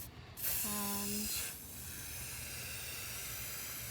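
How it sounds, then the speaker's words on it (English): A can of black spray paint hisses steadily after a brief rattle and click, the close, sustained spray continuing to the end. "we're just gonna spray, the black spray paint over top here"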